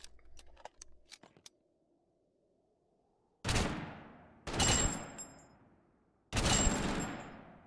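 An MG42 machine gun fired on a shooting range in the video game Totally Accurate Battlegrounds: three loud, close blasts with ringing decays after a few light clicks and a short silence.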